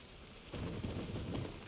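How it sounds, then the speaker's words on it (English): Steady rain in the video game The Witcher 3 hissing and pattering, growing heavier after a quiet start, with a low rumble underneath. "And it's raining again."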